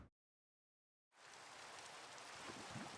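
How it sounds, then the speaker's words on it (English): Steady rain hiss in Minecraft begins abruptly after a second of silence, a broad, even wash of falling water with faint droplet detail, no voices. "Oh wow, it's raining again?"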